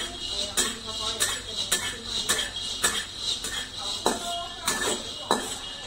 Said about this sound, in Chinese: 这样子慢慢翻炒，一边炒一边听声音，